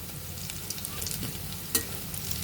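Moringa leaf fritters fry in oil over medium-low heat, giving a steady, close sizzle with soft crackles and a few brief scrapes, and no one speaks.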